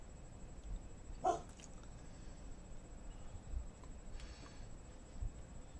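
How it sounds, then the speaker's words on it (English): A lightning detector alert gives short, faint bark-like yips, one near the start and another fainter one later, over a steady low background hiss. "I don't know if you hear my lightning detector. It's like little growl bark."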